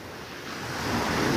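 Surf breaking on a shore where people gather shellfish and fish at a river mouth, a broad rushing wash of water that swells and grows louder toward the end, with wind noise and no voices.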